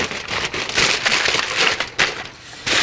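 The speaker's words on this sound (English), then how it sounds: "Sorry for the noise, it's probably a little crinkly." Aluminum foil crinkles and crackles continuously as it is pressed over a roasting turkey, close and fairly loud, with bursts of rustling and no talking.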